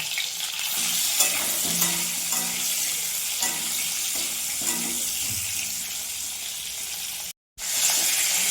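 Continuous loud sizzling and crackling of pointed gourd frying in oil, with occasional stirring scrapes, cutting out briefly near the end.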